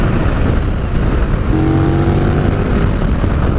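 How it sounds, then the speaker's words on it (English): A KTM Super Duke GT V-twin motorcycle engine rumbles loud and close, a dense low drone under heavy rushing wind, with a brief steady tone rising partway through. "And the big old V-twin sounds absolutely amazing"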